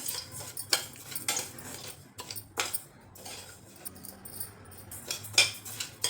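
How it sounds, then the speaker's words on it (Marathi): Grains for traditional metkut dry-roasting in a pan over a low flame, with intermittent close clinks, scrapes and rattles of stirring, fairly quiet and without talk. "सर्व धान्य छान असे खमंग भाजून घ्यायचे लो फ्लेमवरती"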